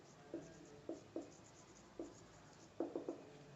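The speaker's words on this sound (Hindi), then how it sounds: "तो हम बोर्ड पर लिख लेते हैं" Chalk or marker writing on a classroom board during a chemistry lesson, faint short scratchy strokes in small bursts, with a quick cluster of three near the end, over a quiet room.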